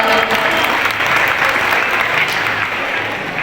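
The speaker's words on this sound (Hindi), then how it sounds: "ये पर जोरदार तालियां।" An audience at a school's annual function and prize-distribution ceremony claps loudly and continuously in a dense, sustained wash of applause that eases slightly toward the end.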